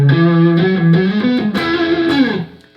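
An electric guitar plays a short run of sustained notes and bends, dry with no added echo, loud and close, then fades.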